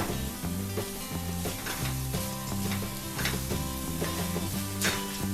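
Thick curd spooned into sizzling masala for Thalassery egg biryani and stirred, a steady close frying hiss with scraping strokes of the spoon, heard over soft background music.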